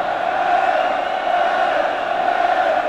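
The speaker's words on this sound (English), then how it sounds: "listen as the crowd prepare to welcome the Welsh side" A big rugby stadium crowd in Cardiff at the 1988 Wales versus Scotland match roars steadily, a dense, loud, continuous wall of cheering with no pauses.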